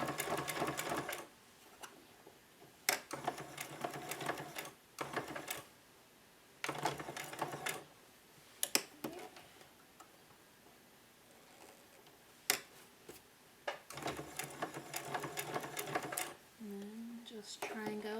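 A sewing machine stitches fabric for homemade protective masks, going back over earlier stitches to reinforce them, in several bursts of rapid mechanical whirring separated by pauses, with someone talking in between.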